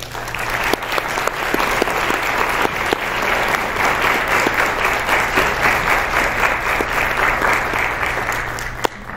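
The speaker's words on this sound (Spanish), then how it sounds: "mi estimado compañero Lauro Jiménez, para quien pido un aplauso." An audience applauds at a book presentation in Querétaro, a sustained, dense round of clapping from a room full of people, loud and steady throughout without fading.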